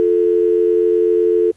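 A steady telephone tone sounds while a call is placed to the Indian embassy in Beijing: one continuous, clear, loud beep-like hum that holds for about a second and a half, then cuts off abruptly.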